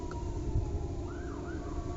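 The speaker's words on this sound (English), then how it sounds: "There's the ambulance. There's the emergency." An ambulance siren wails faintly in the distance, a single rising and falling tone over low traffic rumble.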